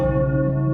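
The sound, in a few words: church bell tolling in The Sims 4 video game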